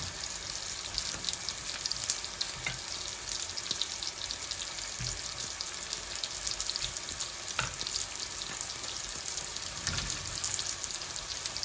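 Prawns fry in a pan, giving a steady, close sizzle with a bright hissing crackle that keeps on evenly, broken now and then by a soft clatter or stir, with no talking.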